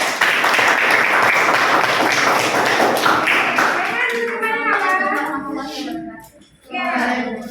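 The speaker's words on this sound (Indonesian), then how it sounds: "tepuk tangan." A group breaks into dense, lively clapping that holds for several seconds, then thins out as a voice begins talking nearby.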